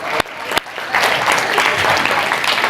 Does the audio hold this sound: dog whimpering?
no